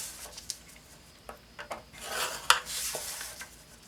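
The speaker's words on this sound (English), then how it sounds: "we're going to score this at 1 inch on all 4 sides" Black cardstock is scored on a scoring board with a tool, giving quiet, scattered scraping strokes and a few sharp little clicks, with no talking.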